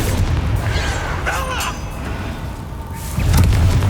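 Confringo blasting spell going off during a Hogwarts Legacy battle: a deep booming blast that rumbles through the opening second, then a second heavy low thump near the end, over steady combat noise and faint chatter.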